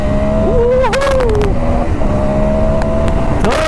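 KTM 1290 Super Adventure S motorcycle in sport mode accelerating hard in third gear, a loud close engine whine rising and dipping in pitch over wind and road noise.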